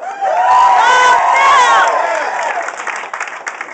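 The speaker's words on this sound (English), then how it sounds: "I'll start off with some cheap applause." A comedy club crowd at In Napoli in Fort Lee greets a stand-up comedian with loud applause mixed with whoops and cheering voices, swelling at the start and then gradually thinning toward the end.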